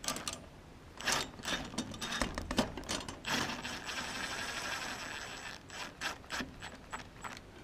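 A brass bolt is fastened into a brass and copper sculpture with quiet, irregular ratcheting clicks and small metallic turning sounds close by, with pauses between bursts and no talk.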